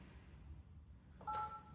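A brief pair of telephone DTMF dialing tones sounds clearly over a low background hum, near and distinct.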